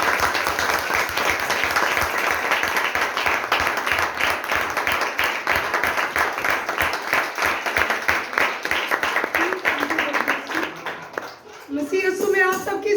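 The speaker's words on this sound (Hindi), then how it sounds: "जोरदार तालियों में।" Sustained applause from a seminar audience welcoming a pastor to the stage, dense steady clapping filling most of the clip, fading briefly before a voice begins speaking at the end.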